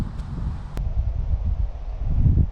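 Strong, gusty wind roars across an open golf course, a steady low rumble buffeting the microphone and swelling louder toward the end, with a brief sharp click partway through and no talking.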